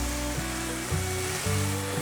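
Sugar snap peas and bean sprouts stir-fried in a hot pan give a steady, close sizzle, with the rhythmic scrape of a spatula tossing the vegetables every half second or so.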